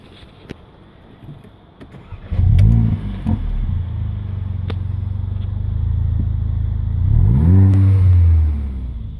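Inside a 2015/2016 facelift Mercedes-AMG A45 in comfort mode with the exhaust valve off, the engine revs up twice, each rise a deep climbing roar, with a steady low drone and a few soft clicks between.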